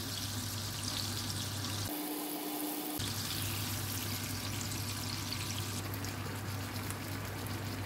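Chicken breast frying in hot oil in a pan gives a loud, continuous close sizzle and crackle, with a brief dip in the texture partway through.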